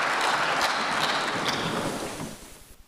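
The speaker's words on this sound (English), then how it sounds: "a big round of applause for our panelists" Audience applause for a panel of speakers at an aviation conference, a steady dense clatter of clapping that thins out and fades toward the end.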